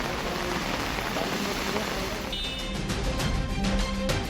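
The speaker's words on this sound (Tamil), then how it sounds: "அவ்வப்போது சாரல் மழையும் பெய்து வருகிறது" Light drizzle falls in the Kodaikanal hills of Dindigul district, a soft, steady hiss with scattered patter of drops landing on nearby surfaces, faint and continuous.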